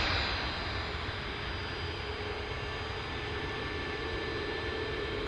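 EasyJet airliner passing overhead outdoors, a steady broad jet roar with a faint high whine, fairly loud and unchanging, with no talk.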